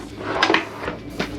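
A desk drawer in an aft balcony cabin aboard Royal Caribbean's Freedom of the Seas slides and knocks, with a couple of short wooden bumps close by, no voices over it.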